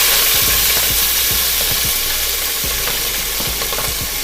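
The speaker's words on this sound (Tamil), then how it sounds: "வெங்காயம் போட்டு நல்லா பொன்னிறமாக வர்ற வரைக்கும் வதக்கிக்கலாம்" Onions frying in ghee and oil in a pan already tempered with cinnamon and cloves: a loud, continuous close sizzle broken by repeated scraping and knocking from stirring, with no voices.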